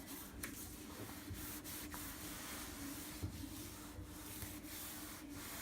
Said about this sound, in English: with a wet microfiber cloth just try to clean all the grease which was on top